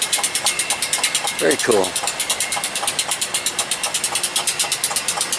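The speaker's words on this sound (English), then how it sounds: "Not quite sure what's chugging away in that, but pressurizing the system, I imagine. Chug, chug, chugging away." A small engine on rail grinding equipment chugs at a steady, rapid pulse close by. A person speaks briefly over the constant chugging.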